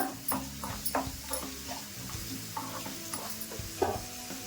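Onions with a tablespoon of ginger-garlic paste fry in oil for a dosa side, a soft sizzle broken by scraping stirs and light utensil taps, close and fairly quiet, no talk.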